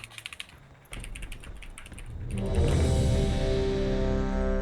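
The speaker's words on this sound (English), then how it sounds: "Someone is aggressively typing." Fast, aggressive clacking on a clicky Cherry-switch computer keyboard during a World of Warcraft session, rapid close keystrokes at first, then buried under a swelling wash of game sound and music.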